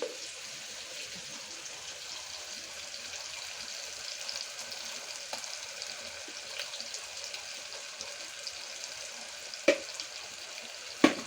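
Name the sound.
onion, green chilli and ginger-garlic paste frying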